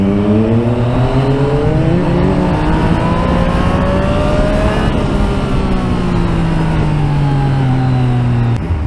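A Yamaha MT-09 motorcycle fitted with an Akrapovic exhaust revs hard up close, its loud engine note climbing in pitch, dipping, then rising again in a sustained roaring sweep.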